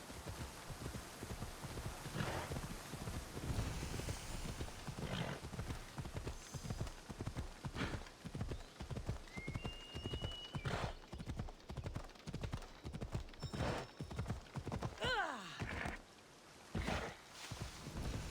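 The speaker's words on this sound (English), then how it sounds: "Giddy up. Let's go, Phobos." A horse gallops in Assassin's Creed Odyssey with steady, close hoofbeats that run on throughout, and some faint tonal game sounds come and go on top.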